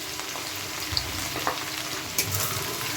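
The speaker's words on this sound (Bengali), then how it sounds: "তাহলে বন্ধুরা আমার তেলটা গরম হয়ে গেছে। এবার আমি আদা কুচিটা দিয়ে দিচ্ছি, রসুন কুচিটাও দিয়ে দিচ্ছি" Chopped ginger and garlic fry in hot oil for spicy chicken wings, giving a lively, fairly loud sizzle with several stirring clinks and scrapes.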